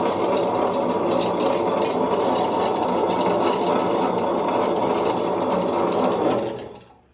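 A Butterfly RapidPlus wet grinder runs with a steady, loud whirring drone close by, then winds down and stops at the end.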